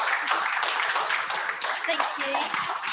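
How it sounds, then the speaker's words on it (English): An audience applauds after a talk, a dense, steady wash of clapping throughout with voices mixed in. "Can we have one more round of applause"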